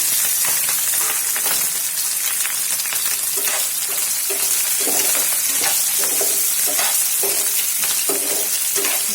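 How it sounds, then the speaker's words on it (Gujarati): Chopped green chillies fry in hot oil with ghee and white sesame seeds, a steady close sizzle with intermittent stirring and spoon scrapes throughout, no voices. "હવે આપણે જે લીલા મરચાંની સમારીને રાખ્યા છે તે તેલની અંદર લઈ લઈશું"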